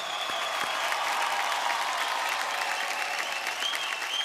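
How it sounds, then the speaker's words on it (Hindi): A loud, steady burst of audience clapping on a television show greets two guests, a continuous wash of applause lasting a few seconds with no talking over it. "एक बार जोरदार तालियां हो जाएं"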